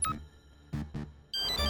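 A phone rings on an outgoing call in a Hindi cartoon, with short electronic tones repeating twice before a bright ringtone begins, quiet and clear.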